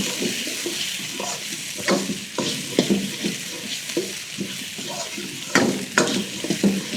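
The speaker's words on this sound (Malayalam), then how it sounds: "ഓണിയൻ കുറച്ച് നമുക്ക് സോട്ട് ചെയ്യാം" Chopped onion and tomato sautéing in a pan for Dragon Chicken: a soft sizzle under irregular scraping and clattering stirring strokes, close and steady throughout.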